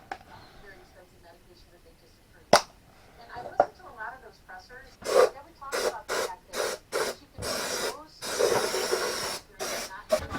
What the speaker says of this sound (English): Let's get a bit of carb and choke cleaner.